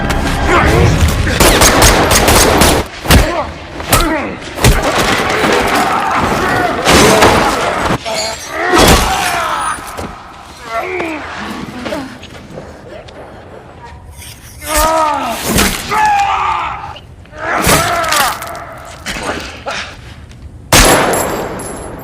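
Gunfire and crashing impacts from an action film come in sharp bursts and volleys, mixed with breaking and clanging sounds and shouted voices over a dense score.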